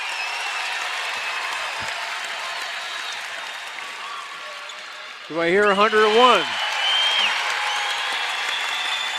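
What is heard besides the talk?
basketball crowd cheering and applauding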